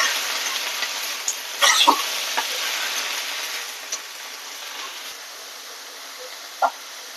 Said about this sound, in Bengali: অল্প করে একটু হলুদ দিয়ে এবার এটাকে আমি সুন্দর করে ভেজে নেবো